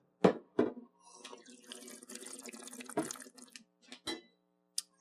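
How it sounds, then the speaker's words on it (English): Sparkling water poured into a cup for rinsing before a cortado, in short splashing bursts and a steady trickle, near and clear with no talk. "we've got some sparkling water, of course, to rinse out our cortado with"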